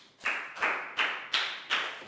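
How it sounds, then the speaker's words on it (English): A classroom of pupils claps in unison in five slow, heavy, evenly spaced claps, each a loud burst with a short decaying tail, close and without talk. "Big round of applause for Net,"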